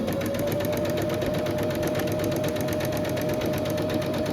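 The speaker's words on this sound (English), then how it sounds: "Just going to do a zigzag stitch down the seam" A sewing machine runs a zigzag stitch down the seam of a shirred waist skirt, making a continuous, evenly pulsing mechanical whir at close range with no pauses.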